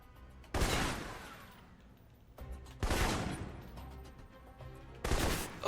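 Assault rifle fire in the video game Alpha Protocol comes in three loud, sharp bursts of rapid shots, each with a short decaying tail, separated by quieter gaps.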